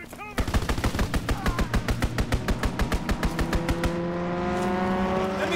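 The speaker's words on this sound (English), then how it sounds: "Enemy strafing run inbound." Rapid, loud burst of machine-gun fire from an enemy aircraft strafing run in Call of Duty WW2, a steady run of evenly spaced shots lasting several seconds before giving way to a droning aircraft engine.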